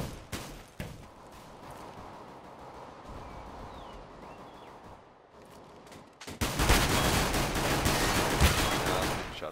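Video game gunfire in a multiplayer shooter, scattered shots early that give way to a loud, sustained burst of rapid automatic fire in the last few seconds.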